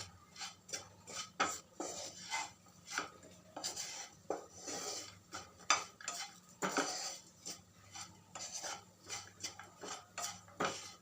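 A utensil scrapes and taps against a pan as salt is mixed into a coconut filling for vada pav, a close, quiet run of irregular metallic scrapes and clinks with no voice.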